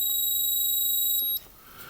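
An Olympus OM10 film camera with its switch set to battery check gives a steady high electronic beep for over a second, then cuts off, leaving faint room hiss.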